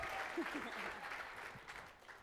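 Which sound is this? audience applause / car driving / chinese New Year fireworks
audience applause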